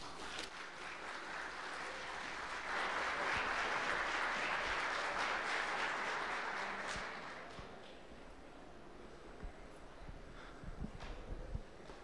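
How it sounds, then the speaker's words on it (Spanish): Audience applause welcoming a speaker at a police investigation techniques lecture, a soft, fairly distant wash of clapping that swells mid-clip and fades after about eight seconds into faint room noise. "Recibámoslos por favor con un caluroso aplauso."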